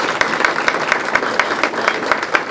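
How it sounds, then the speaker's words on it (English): An audience applauds students at a spring grant celebration: dense, steady clapping from a crowd, fairly loud and continuous through the whole span. "let's give them a round of applause for learning this"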